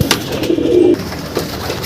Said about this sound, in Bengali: এই দেখতে পাচ্ছ পায়রা কী হারে মানে দানা খাচ্ছে